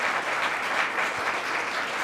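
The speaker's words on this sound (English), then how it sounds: "Let's give her a hand clap." Audience at a scholarship reception applauding, a steady, dense wash of many hands clapping at even loudness for a couple of seconds.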